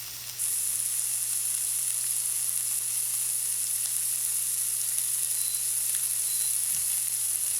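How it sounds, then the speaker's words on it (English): Beef patties sizzle loudly and steadily in a pan, a bright continuous hiss with occasional small pops and a low hum underneath. No one speaks. "You can really hear these patties sizzling."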